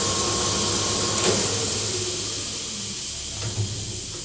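An automatically fed HE&M saw runs as a steady, hissing mechanical drone with a sharp clunk partway through, then its level eases slowly downward as the motor winds down.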